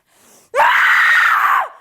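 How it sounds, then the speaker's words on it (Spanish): A professional scream artist lets out a single loud, sustained angry rage scream lasting about a second, preceded by a brief faint breath, with no other sound around it. "Para hacer gritos de enojo, hay que cerrar la boca y hay que tensar el cuerpo de esta manera."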